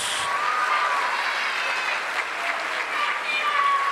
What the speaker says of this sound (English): One more round of applause for our outstanding art students.